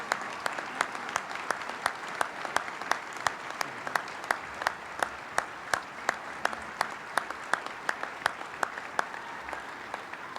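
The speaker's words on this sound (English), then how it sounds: "Let him clap." At a city State of the City address, a lone rhythmic clap repeats evenly and sharply, about two or three per second, over a faint crowd murmur.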